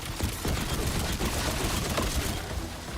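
Rapid gunfire from a Path of Exile action RPG fight crackles continuously at moderate volume, dense overlapping shots blending with combat noise.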